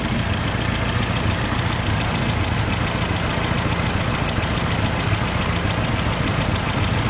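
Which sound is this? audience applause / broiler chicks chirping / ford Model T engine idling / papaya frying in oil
ford Model T engine idling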